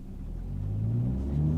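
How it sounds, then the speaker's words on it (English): A car engine rumbles low and rises steadily in pitch and loudness as it accelerates, close by with no talking. "The engine sound is great."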